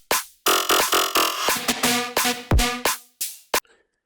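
A jump up drum and bass synth bass preset loops in short, punchy, distorted stabs, rhythmically chopped with gaps and one deep drop, loud and alone before stopping abruptly.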